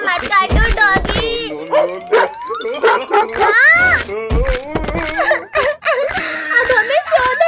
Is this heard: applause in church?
no